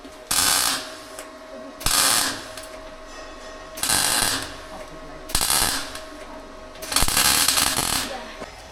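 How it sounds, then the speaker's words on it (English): Tack welds go onto a panel of a tour bus being converted into a home, heard as five separate loud bursts of crackling, buzzing welding spaced a second or two apart, with quieter pauses between them. "We've put this on in place when Dad's just going to weld it."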